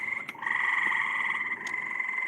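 Frogs croak steadily from a giant pool, a dense continuous chorus of overlapping calls that stays loud throughout with brief sharper croaks standing out near the start and middle.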